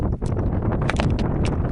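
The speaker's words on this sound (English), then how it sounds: "Windy up here on top" Strong wind buffets a desert hilltop in a steady, loud roar with gusty rumbling, close and unbroken throughout.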